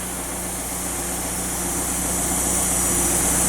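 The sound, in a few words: Fiat 124 Spider turbo engine exhaust note idling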